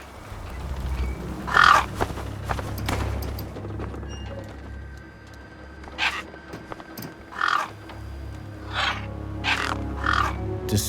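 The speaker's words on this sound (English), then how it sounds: "Then, I heard them. Gang birds, scavengers" Gang birds, scavenger crows in a wasteland of the game Beyond a Steel Sky, give a series of harsh caws, about seven separate calls spaced a second or two apart over a low ambient rumble.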